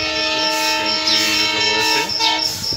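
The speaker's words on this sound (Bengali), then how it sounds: "আমাদের ট্রেন অবশ্য চলে এসেছে কিছুটা লেট" The Kopotakkho Express stands at a station on the journey toward Rajshahi, its horn sounding long and loud with steady tones over rumbling rail noise, close by and continuous.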